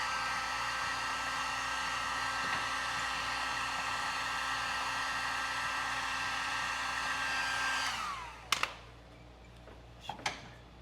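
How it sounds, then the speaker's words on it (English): A heat gun blows a steady, loud whooshing stream of hot air onto a stiff tractor tire cap, running continuously before cutting off near the end, followed by a few sharp clicks and taps. "I'm going to use a heat gun. I'm going to heat it up."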